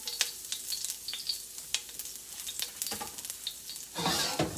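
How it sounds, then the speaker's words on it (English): Garlic and ginger crackle and spit in very hot oil while being stir-fried, with scattered sharp pops and clinks of a utensil stirring, growing into a denser, louder sizzle near the end. "Put my ginger, and it is spitting at me. And I'm going to stir fry it."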